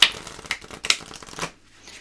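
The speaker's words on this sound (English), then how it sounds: "So let's give them one big shuffle here." Oracle card deck being shuffled in one long riffle, a dense papery flutter with a few sharper slaps, running about a second and a half before stopping into near silence.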